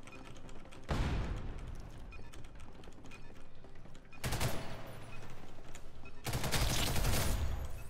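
A futuristic M4-style rifle fires in a video game, with three sustained bursts of rapid automatic fire over a busy background.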